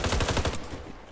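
Rapid burst of Micro-Roni submachine gun fire in the Warface shooter game, about eight loud, evenly spaced shots in half a second, then a short ringing tail.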